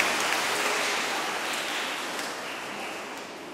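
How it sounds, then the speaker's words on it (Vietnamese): Applause from a church congregation at a First Communion Mass, given for two cameramen. A dense, continuous wash of many hands clapping at once, fairly loud, that slowly fades toward the end. "Xin các bạn cho hai cameraman một tràng pháo tay nữa"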